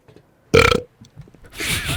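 A single loud, close burp lasting about a quarter second, with a brief murmur before it and rustling noise after it.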